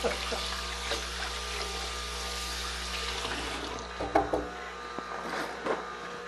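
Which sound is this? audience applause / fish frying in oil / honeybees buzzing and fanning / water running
water running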